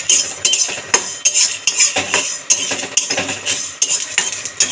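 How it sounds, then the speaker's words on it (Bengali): Dried red chillies, fenugreek, coriander seeds and cumin are dry-roasted in an empty wok over a gas flame, stirred with a utensil in loud, rhythmic scrapes and rattles about twice a second. "মশলাটাকে ভেজে দেবো নেড়ে চেড়ে"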